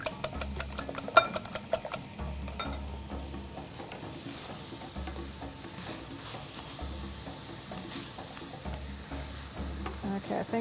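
Chorizo sausage sizzles steadily in a pan while a utensil scrapes and stirs it in repeated strokes, with a few sharper clinks early on and no talking.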